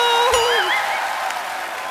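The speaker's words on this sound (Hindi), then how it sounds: "जोरदार तालियां एक बार।" A studio audience at a Kapil Sharma comedy show claps steadily, the applause mixed with warbling whistles near the start, dense and continuous.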